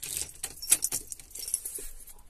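Car key for a Mercedes ML sliding back into the ignition, with a close, crisp metallic jingle and small clicks over a couple of seconds in a quiet cabin.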